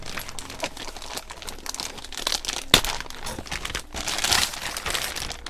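Plastic packaging crinkles and crackles up close, with rustling, a sharp snap midway, and tearing sounds as it is handled and opened.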